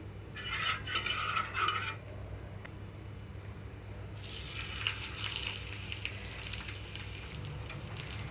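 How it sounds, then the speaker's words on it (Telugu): Bottle gourd batter sizzling in ghee on a flat pan, a steady frying hiss that swells in two bursts, the second longer and continuing to the end, with no talking. "ఇక్కడ పెనం మీద కొంచెంగా నెయ్యి వేస్తున్నాను"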